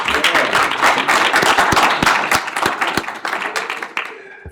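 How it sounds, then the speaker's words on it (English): An audience at a Eastern Cape film expo session bursts into a round of applause, dense hand clapping that holds loud and steady before thinning out to scattered claps at the end. "I think give yourselves a round of applause."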